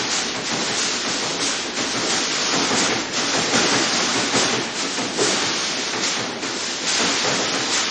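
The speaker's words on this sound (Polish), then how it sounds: "Pociąg. Poczekajmy, aż się zatrzyma." A train arrives and slows to a stop, producing a loud broad rushing roar with hissing and rumbling surges that fluctuate throughout, with no voices.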